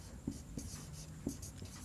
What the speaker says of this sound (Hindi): चलिए हम इसको हिंदी में लिख देते हैं।